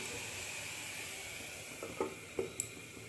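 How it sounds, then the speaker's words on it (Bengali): Mustard greens cooking in a covered pan over a low flame: a faint, steady sizzle and hiss, with a few small pops and taps near the end. "ঢাকনা দিয়ে লো ফ্লেমে আরও 2 থেকে 3 মিনিট রান্না করে নিচ্ছি।"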